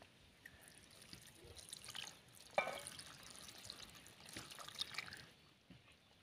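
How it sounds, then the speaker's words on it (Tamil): Hot milk poured onto biscuits in a bowl, giving a soft, close trickling and splashing of liquid with a few brighter drips, quiet overall and without any talking. "பிஸ்கட் கூட பால் சேர்த்துட்டேன்."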